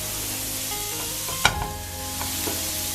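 Onion and carrot fry in oil in a pan as a spatula stirs them, one sharp scrape and clack standing out over a steady close sizzle, then softer scraping.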